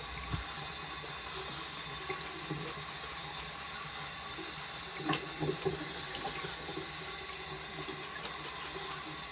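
Lukewarm water runs steadily from a bathroom tap while a shaving brush is wetted, a continuous hiss with small splashes and clinks near the sink.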